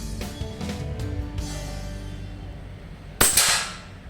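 A Diana Outlaw air rifle fires a single pellet, one sharp close crack with a short ringing tail after a stretch of quiet handling noise.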